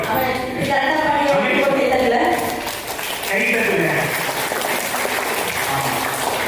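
An audience claps steadily through most of the stretch, easing briefly partway before picking up again, while people talk over the applause.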